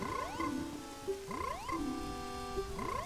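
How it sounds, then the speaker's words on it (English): Cartoonish frog croaks from the video game Majora's Mask, repeated in three rising, warbling calls about a second apart, close and clear with a soft ambient backdrop and no talk. "It's a frog."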